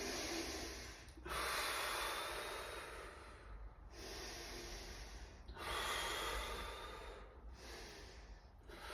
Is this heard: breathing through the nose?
yes